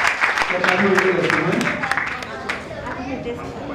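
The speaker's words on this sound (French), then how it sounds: "On applaudit." Guests at a town hall wedding break into brisk applause, dense clapping that fades out over a few seconds amid murmured chatter.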